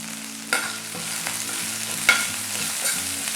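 Asafoetida, coriander and mint sizzling in oil for kara chutney while being stirred, a steady frying hiss broken by occasional spoon knocks against the pan.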